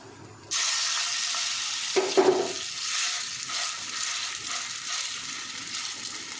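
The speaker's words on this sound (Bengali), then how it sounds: "তেলটা গরম হয়ে গেছে এবার আমি বাড়ি ম্যাগিটা এখানে দিয়ে দিচ্ছি" Maggi noodles drop into hot mustard oil with a sudden loud sizzle, a brief burst of crackling, then a steady bright frying hiss that carries on alone.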